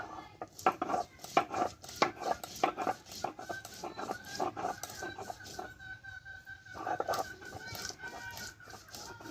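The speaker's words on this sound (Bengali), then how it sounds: "আমি শিলনোড়াতে আগে বেটে নেব" Pea lentils being ground on a shil-nora grinding stone in a home kitchen, with repeated rough scraping and knocking strokes in an uneven rhythm, close and fairly loud, with a short pause partway through.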